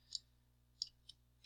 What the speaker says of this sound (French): CTRL-C, j'utilise le clavier cette fois-ci